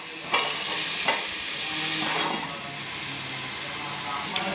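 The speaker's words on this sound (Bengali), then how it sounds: "একটু ভাজার জন্য আমি চাপা দিয়ে দিচ্ছি।" Potatoes fry in oil beneath a lid, giving a steady close sizzling hiss broken by a few sharp clacks and scrapes of the lid and pan.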